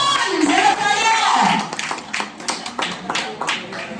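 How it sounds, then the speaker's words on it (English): An audience claps at a Panasonic Anchor fans dealers meet, with a voice over the first half and then scattered rounds of hand claps that grow more broken and irregular. "Claps for everyone."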